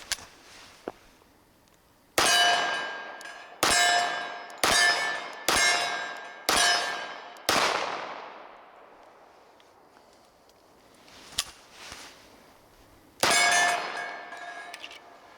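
A SIG Sauer Spartan II Carry 1911 pistol, fired one-handed, sends about eight rounds onto steel targets, each a sharp, loud bang with a ringing metallic clang that decays over a second. The shots come in a quick string, then a pause and two more.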